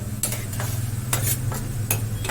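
Food being stirred and sizzling in a pan in a home kitchen, a special dish made without onion and garlic, with a steady low hum and repeated clinks of a spoon against the pan.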